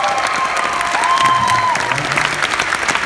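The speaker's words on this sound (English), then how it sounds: "Let's give him a round of applause for a minute." A crowd applauds and cheers at a Dragon Ball Super: Broly fan-event panel in Melbourne, a steady wash of clapping with scattered whoops throughout.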